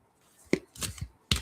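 Tarot cards are shuffled for a reading in a few short, sharp bursts separated by near-silent gaps, close and quiet in a calm setting.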